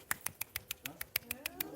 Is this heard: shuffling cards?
no